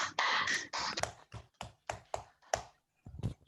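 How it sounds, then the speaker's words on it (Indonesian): Children at a church service for World Children's Prayer Day give scattered applause. A brief noisy burst of clapping is followed by sparse, irregular individual claps that thin out and are moderately quiet, with no talking. "Berikan tepuk tangan adik-adik"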